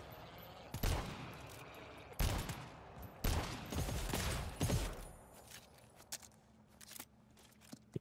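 Machine gun fire in the co-op shooter GTFO comes in several loud, close bursts of rapid shots over the first five seconds, then gives way to scattered clicks and quieter movement.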